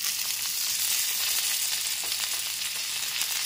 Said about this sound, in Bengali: এবার টমেটোটা খুব ভালো মতো ভেজে নেব।